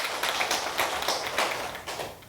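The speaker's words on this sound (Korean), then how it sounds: "다시 한번 국가명을 하사해 주신 참부모님께 큰 박수 한번 쳐드리도록 하겠습니다" Faint applause from a church congregation, a soft wash of scattered clapping with a few sharper claps rising and falling over about two seconds.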